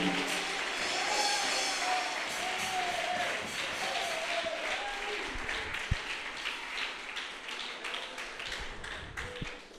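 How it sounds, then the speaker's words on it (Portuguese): A church congregation claps in rhythmic unison during a sermon, fairly faint and roomy, with a few louder thumps and scattered voices underneath. "Aplauda o nome do Senhor."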